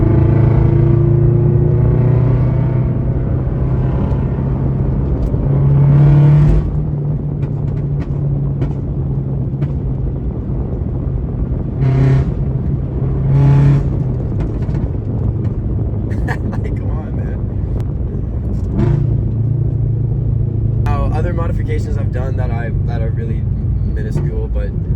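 A Subaru BRZ engine holds a steady loud drone and rises in several revs, with crackling pops near the end, while someone talks over it inside the car.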